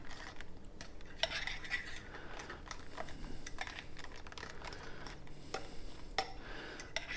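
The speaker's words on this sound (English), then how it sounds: "So we'll get those well mixed in here" Sugar-free chocolate chips being stirred into chaffle batter in a bowl, with repeated light clicks and scrapes of a utensil against the bowl, quiet and close with no voices.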